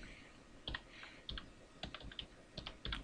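Keys clatter on a computer keyboard as a short file name is typed, a few quick uneven bursts of close, crisp clicks over a quiet room hum.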